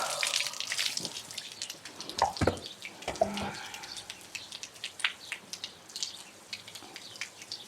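Water from a hose shower sprays and splashes onto a horse, a steady hiss with scattered drips and a few sharper splatters, moderately close with no talk.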